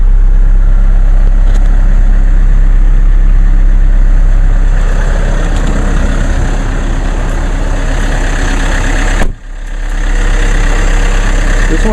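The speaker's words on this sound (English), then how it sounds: "Well, now the idle has gone down on the Mercedes." A diesel engine idling loudly and steadily after a cold start at 23°F, a constant low rumble from close by, with a sudden brief dip and thump partway through.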